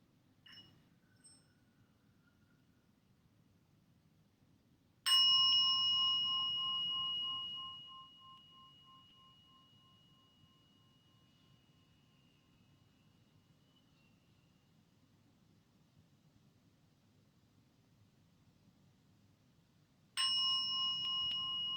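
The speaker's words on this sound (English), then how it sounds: "I'm going to invite the bell to sound as a way to seal our practice today." A meditation bell is struck once and rings out in a long, pure, slowly fading tone, then a second strike comes after a long quiet stretch.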